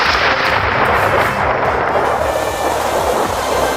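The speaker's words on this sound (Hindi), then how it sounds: "सुना चिंटू, बादल गरजने लगा, अब जरूर बारिश आएगा" Deep thunder rolls over a village before rain, a loud, close, sustained rumble with heavy low booms that swell and fade across the whole stretch, with no voices present.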